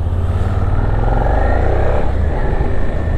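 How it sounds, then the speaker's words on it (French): A Suzuki SV650 twin-cylinder motorcycle engine drones loud and close in a steady onboard run, its low throbbing rumble rising slightly in pitch midway as the rider accelerates. "On a ce bruit du bicylindre très agréable."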